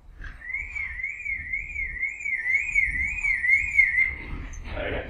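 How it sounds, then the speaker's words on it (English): A car alarm wails during a security demonstration, one continuous warbling tone rising and falling for about four seconds, loud and close, with a brief burst of noise at the end. "So this is just the alarm on."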